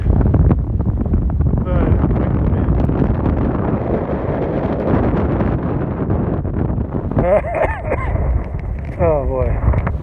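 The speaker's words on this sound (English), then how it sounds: "I hate the wind. Unless it's just a gentle breeze. Not this kind of stuff. Too strong for me." Strong gusting wind buffeting a microphone outdoors at a pasture fence line, a loud continuous rumble throughout, with someone talking over parts of it.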